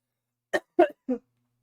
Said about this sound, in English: I'm sick still, so I'm still coughing.